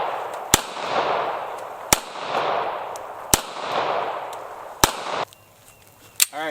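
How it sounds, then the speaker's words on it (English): A Beretta shotgun fires five loud, sharp shots at a steady pace outdoors, each with a long rolling echo before the next, ending in a brief metallic clatter. "Alright, that was the Beretta."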